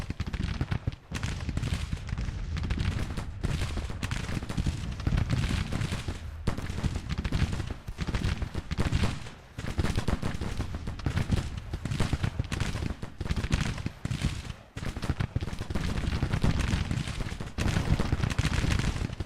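Volleys of Hall's rifles in Grand Tactician: The Civil War, dense rapid gunfire crackling and booming continuously with overlapping shots near and far.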